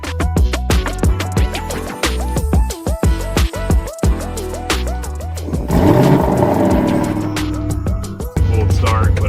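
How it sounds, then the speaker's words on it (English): A matte gray Lamborghini Urus S fires up from a cold start, its engine barking loudly and then settling into a rough, rumbling idle up close, with no talking over it. "Cold start, but it's also not warmed up as well."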